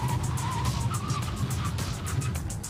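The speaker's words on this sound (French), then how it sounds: "entends-tu ça râler en avant la pompe ABS? Ça travaille fort!" ABS pump of a 2023 Volkswagen Jetta Highline working under hard braking, a rapid buzzing pulsation over steady road and tire roar, with a faint squeal and continuous cabin rumble.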